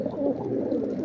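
Low, throaty cooing from fighter pigeons rolls on continuously, soft warbling murmurs close by with no talking.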